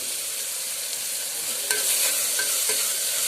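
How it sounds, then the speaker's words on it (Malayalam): Chopped onions with curry leaves sauté in a hot pan for a Kerala coconut mutton curry, a steady close sizzle running throughout with a few scrapes and stirs of a spoon near the end. "നമ്മൾ ഉള്ളി നമുക്ക് വാട്ടിയെടുക്കാം."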